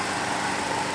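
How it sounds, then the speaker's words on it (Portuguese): A faulty Mercedes C180 Kompressor radiator electric fan roars loudly and steadily, a dense whirring rush with an engine-like drone throughout, close up and with no talking. "Mercedes com barulho na ventoinha. Barulho muito alto."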